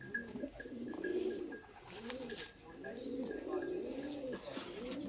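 Fancy Sialkoti pigeons coo in repeated low, rolling phrases close by, with a steady hum and soft background noise underneath.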